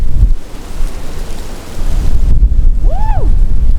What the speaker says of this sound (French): Et il y a un vent, les gars. Je sais pas si vous entendez le bruit.